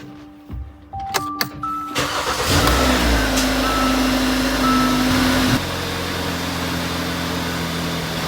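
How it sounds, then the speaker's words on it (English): A rebuilt Hyundai car engine cold-starts, cranking briefly, catching and settling into a steady idle, with a faint high whine running over the low rumble. "It's a cold start, so RPM looks normal"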